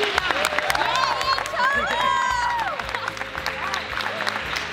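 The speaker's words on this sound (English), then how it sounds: "I just want all of you guys to give a huge round of applause" Audience applause at a school youth service spirit day, a broad wash of clapping mixed with music and background voices, steady and moderately loud throughout.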